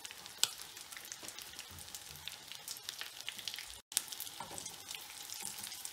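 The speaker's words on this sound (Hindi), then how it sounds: "इसी तरीके से आप सारी फ्राई कर लें।" Chicken shami tikki sizzle and crackle in hot frying oil, a steady close hiss sprinkled with sharp pops, moderately loud and with no voices over it.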